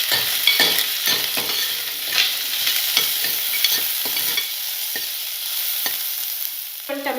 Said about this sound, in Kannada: ಕಟ್ ಮಾಡಿರುವಂತಹ ಈರುಳ್ಳಿ, ಇದನ್ನು ಸ್ವಲ್ಪ ಮಿಕ್ಸ್ ಮಾಡ್ಕೊಳ್ಳಿ